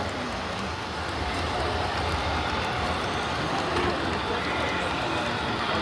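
Model train running on a layout at a train show, a steady rumbling rush that holds at an even level throughout, close by amid the busy hall ambience.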